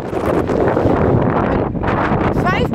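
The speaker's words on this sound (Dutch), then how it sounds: "Het waait nogal hard, dat weet ik." Strong storm wind buffets the microphone in a loud, continuous roar with gusty swells, and an indistinct voice is briefly tangled in the noise.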